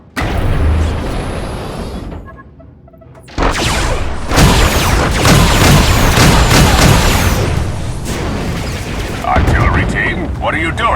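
Artillery guns firing in the Star Wars: The Old Republic game, a barrage of loud, close booms and crashing blasts that rumble on almost without a break after a short lull.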